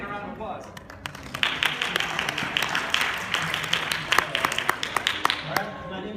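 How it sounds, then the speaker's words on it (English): Audience applause after a short Ignite talk at a math education event, scattered claps starting thin and swelling into a moderate round, with some voices talking over it. "And a round of applause."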